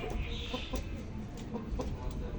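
A gamecock (fighting rooster) clucks softly in short, scattered notes over a dense, noisy farmyard background.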